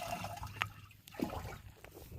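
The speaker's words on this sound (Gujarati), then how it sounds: "પછી પાછું હવે પાણી નાખવી એટલે દવા અંદર મિક્સ થઈ જાય" Water is poured into a pesticide sprayer pump tank while mixing chemical for spraying a cumin crop, a faint, uneven splashing trickle with a few brief sloshes and no talking.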